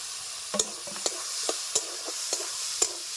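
Onion fries with ginger, garlic and green chili paste and chopped tomato in a pan for a jackfruit curry, a low sizzle broken by a string of sharp scraping stirs every half second or so, close by and without talk.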